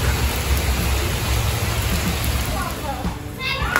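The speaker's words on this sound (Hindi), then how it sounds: "आज तो बारिश है भाई मस्त" Steady rain falls outside as a dense, loud hiss of drops with no pauses, and people talk under it.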